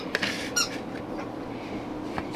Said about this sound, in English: Don't mind the squeaky toys.